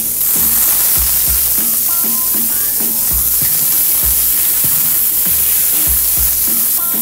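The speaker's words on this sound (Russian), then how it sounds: "У сковороду наливаем оливковое масло и обжариваем мясо." Meat frying in olive oil in a pan gives a steady, loud sizzle throughout, with repeated knocks and scrapes of stirring and utensil contact on the pan.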